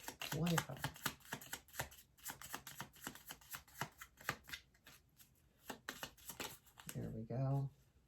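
Tarot cards are shuffled by hand in a quiet indoor room, with repeated crisp riffling bursts and taps in an uneven rhythm while someone speaks softly between them.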